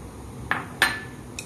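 A utensil clinks a few times against a bowl as a bamboo shoot salad dressed with sesame oil is tossed, three short, bright knocks spaced apart over a quiet background.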